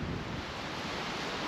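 Hard wind buffeting a caravan awning held by suction-cup mounts, a steady loud roar of gusting air with rumbling microphone buffeting, continuous and close, no voices.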